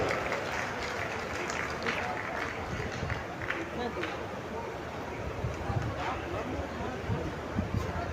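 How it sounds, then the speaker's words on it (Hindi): An outdoor rally crowd applauds to welcome Rajya Sabha MP Naresh Bansal, producing a continuous rough wash of clapping and crowd noise with voices mixed throughout. "आदरणीय नरेश बंसल जी, सांसद राज्यसभा, जोरदार तालियों से आप स्वागत करें।"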